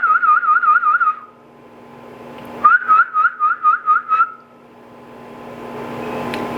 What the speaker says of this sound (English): typically you can whistle to the egg after a certain point